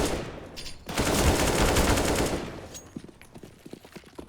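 Counter-Strike gunfire on the Inferno map during an overtime round: a loud, dense burst of rapid automatic fire, then scattered single shots trailing off at a distance, with no talking.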